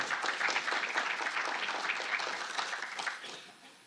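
A conference audience at an international political communication congress applauds a guest, steady full clapping from many hands that holds for about three seconds before fading away.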